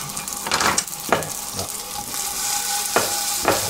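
Slices of foie gras seared in a very hot pan sizzle and crackle loudly and continuously up close, with occasional sharper spits and pops.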